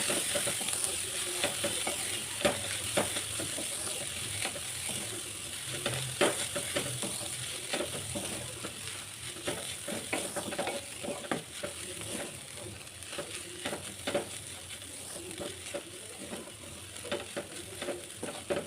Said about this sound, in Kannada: ಮೀಡಿಯಂ ಫ್ಲೇಮಲ್ಲಿ ಇಟ್ಕೊಂಡು ನೀಟಾಗಿ ಬೇಯಿಸ್ಕೊಳ್ಳಿ